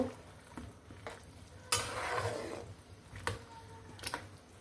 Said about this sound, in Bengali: এই যে দিয়ে দিলাম আমি বেগুন সাথে দুটা আলুও দিয়েছি ছোট আলু এটাকে একটু নেড়ে দিব